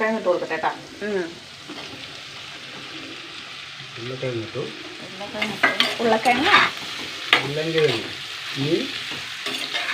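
Potatoes and chillies stir-fried in a pan give a continuous sizzle with scraping stirs, while a person talks over the cooking for much of the time.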